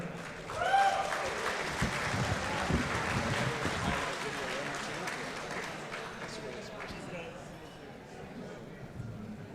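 A grandstand crowd at a speedway's Night of Champions awards applauds the Hard Charger winners, a broad, sustained roar of clapping and cheering with an announcer's voice over it.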